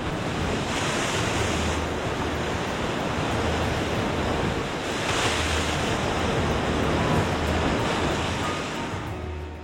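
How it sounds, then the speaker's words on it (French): Violent waves crash against the shore of a sea lion colony: a loud, constant surf roar with two heavier breaking surges and wind buffeting, no voices. "La forteresse des otaries est assaillie par des vagues violentes."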